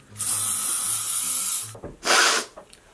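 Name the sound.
hairspray being sprayed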